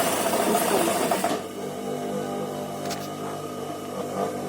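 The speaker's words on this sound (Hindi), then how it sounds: "तो साइड पे ही सिलाई लगाते हैं" Sewing machine stitching the side seam of a frock, a steady close mechanical whir that runs loud at first, then settles into a quieter continuous hum with faint clicks.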